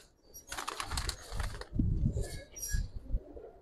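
Pigeons at a pigeon market give off a few bursts of wing flapping and rustling, close by, with busy market noise in the gaps and no talk.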